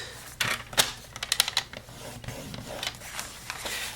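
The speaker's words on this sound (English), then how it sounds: "we need to score, and we are going to score it at the 2-inch mark" A paper trimmer scores white cardstock along its 12-inch side, giving a few short scraping and clicking strokes close up, with quiet pauses between them and no talk.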